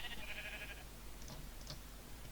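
A Minecraft sheep gives a short, wavering bleat near the start, followed by a couple of faint clicks against a low steady background.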